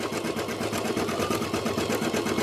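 An embroidery machine stitches an animal mask design, its needle hammering in a fast, steady rhythm with a constant mechanical whir, close and continuous throughout.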